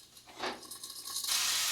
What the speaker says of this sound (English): let's just go ahead and grab a little bit of that spray